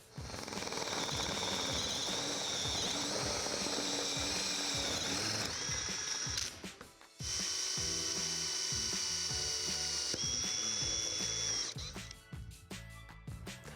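A hole saw bores through a tub wall panel with a loud, steady grinding whine that breaks off briefly around the midpoint, restarts, then sputters into scattered clicks and ratcheting as the cut finishes.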